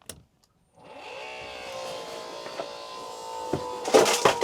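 An electric forward water pump on a boat hums steadily after a short quiet start, a continuous whining motor tone with a few clicks and a rattling burst near the end.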